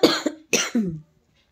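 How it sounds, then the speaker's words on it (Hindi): A woman coughs close to the microphone, two harsh, rough bursts in quick succession, then silence. "देखिए खांसी कितना हो रहा है"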